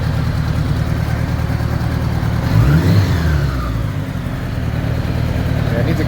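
A budget-built bobber motorcycle with carburettors out of sync runs close by, its engine idling unevenly with a brief rev in the middle before settling back to a rough, lumpy idle.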